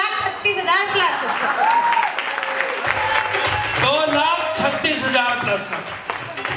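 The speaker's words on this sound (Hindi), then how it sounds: "जबरदस्त तालियां होनी चाहिए सर सारे अचीवर्स के लिए" An audience at a training event applauds achievers, with a sustained burst of clapping from a crowd while people talk and cheer over it, loud and continuous.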